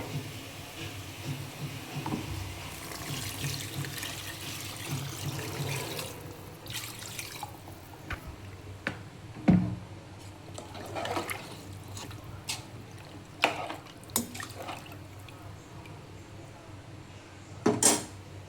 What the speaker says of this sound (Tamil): உங்களுக்கு தேவையான தண்ணி ஊற்றணும்